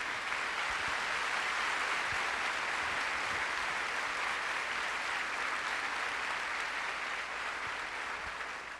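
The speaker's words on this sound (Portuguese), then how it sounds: "Pode aplaudir mais Jesus" A church congregation claps steadily and loudly together, a dense unbroken wash of applause that holds for the full stretch without a pause.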